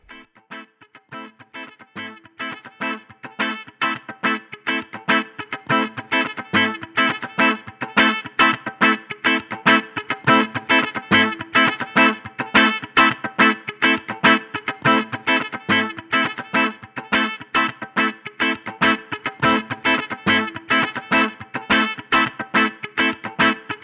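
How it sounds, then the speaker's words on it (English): Distortion character of an LA-2A-style studio compressor model on a Line 6 Helix processor, colouring a repeated, rhythmic instrument figure that starts quietly and then grows louder and steady, with no talking. "the distortion you're going to hear is going to be from the LA Studio Comp's model distortion characteristics"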